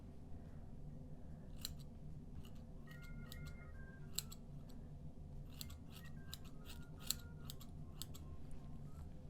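Scissors snip through hair during a self-done wolf cut, giving close, crisp cuts in irregular bursts over a steady low room hum, with no talking.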